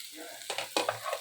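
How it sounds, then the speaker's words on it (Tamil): Soft sizzling of boiled, finely chopped potatoes frying in a pan with scraping stir strokes, quiet and close, no voices. "உருளைக்கிழங்கு ஒரு 2 நிமிஷம் கிளறி விட்டுக்கிட்டே இருக்கலாம்."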